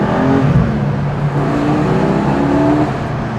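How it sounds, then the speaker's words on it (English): A 2020 Porsche Cayman GT4 engine drones loudly and steadily, its deep roar reverberating inside a tunnel, with a subtle rise and fall in pitch. "we're gonna get a little bit of tunnel sound"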